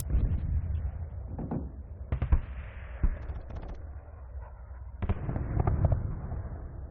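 Gunfire from an Arma 3 war mod, a scoped rifle firing in short sharp bursts over a dense low rumble, loud and close, with no voices.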